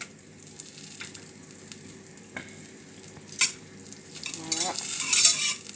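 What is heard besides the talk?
butter melting in a pan over low heat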